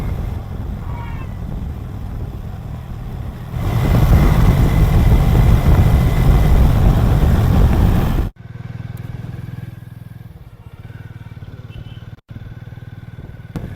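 Harley-Davidson motorcycle riding on a road toward Haridwar, a loud steady engine rumble with rushing wind that swells in the middle and then drops to a quieter cruising drone.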